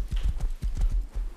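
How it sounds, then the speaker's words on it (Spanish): Horse hooves clip-clop in the Rust survival video game, a quick, steady trotting rhythm of about a dozen close, dull thuds in under two seconds. "hay otro caballo"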